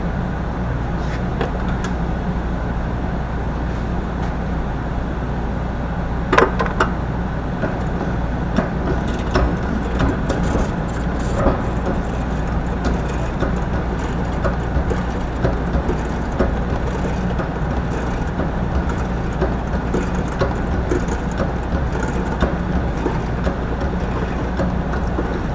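Honda CR-V on a test drive after a rear differential repair with stripped threads fixed, its steady cabin road and engine rumble running continuously throughout, with no talk.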